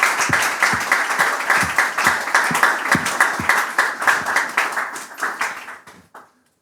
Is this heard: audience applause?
yes